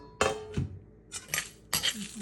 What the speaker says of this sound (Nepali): यसमा यो सबै मसलाहरू यसरी राखिदिन्छु